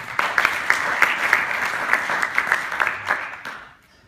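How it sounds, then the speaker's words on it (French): An audience at a Green IT conference workshop on water and energy applauds a speaker, with steady dense clapping and sharper individual claps standing out, then fading away near the end. "je pense qu'on peut vous applaudir."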